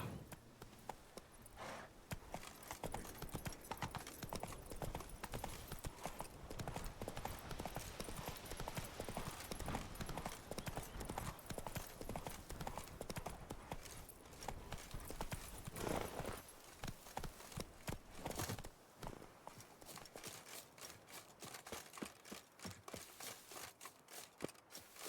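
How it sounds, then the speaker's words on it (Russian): Horse hooves clip-clop in The Witcher 3: Blood and Wine, a steady rapid rhythm of hoofbeats running through most of the stretch before slowing and fading toward the end. "А, во, лошадь моя."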